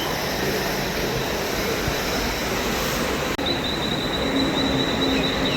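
A Thane-bound local train sits at Kharghar station in Navi Mumbai, a steady loud rumble and hiss throughout, with a brief break partway and a thin whine appearing afterward.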